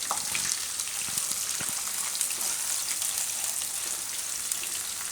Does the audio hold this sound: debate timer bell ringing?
no